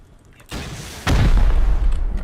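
Explosion during a raid in the video game Rust, a sudden loud boom that hits close after a softer blast, followed by a sustained rumbling roar.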